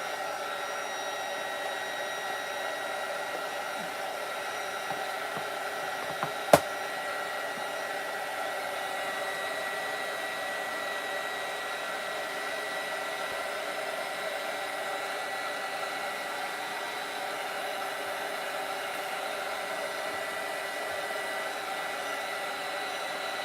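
A hair dryer blows steadily close by to dry paint on an art piece, a constant whooshing hum that holds level from start to finish, with one brief click partway through.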